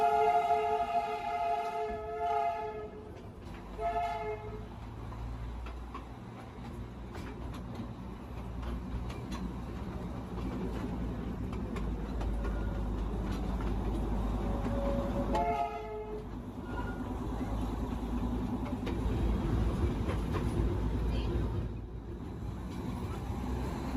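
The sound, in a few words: Darjeeling Himalayan Railway toy train running through town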